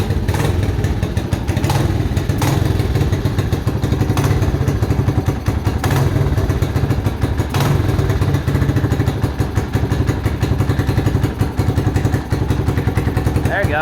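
A Kawasaki Mojave 250 quad engine idles steadily and loudly right after a timing chain replacement, a continuous close-up rumble broken by a few sharp thumps and clatters.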